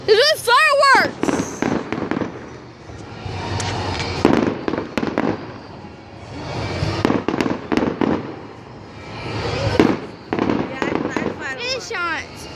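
Fireworks burst over a beach at night, with repeated booms and crackling bursts spread through the scene, some close and loud, mixed with a crowd of people talking and calling out throughout.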